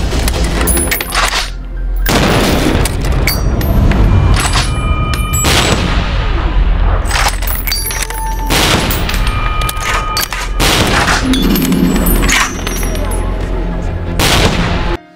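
Rapid, dense gunfire from a shooting scene in a Chinese war TV drama, loud and continuous bursts of shots with metallic clinks, sustained across the whole stretch with brief pauses.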